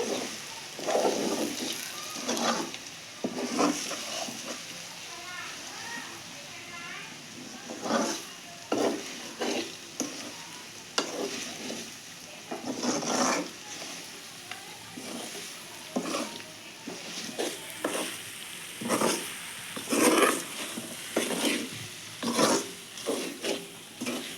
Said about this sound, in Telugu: బాగా వేయించుకుందామండి ఈ ఆయిల్లో, కారంలో బాగా ఫ్రై అయితే బాగుంటుందండి.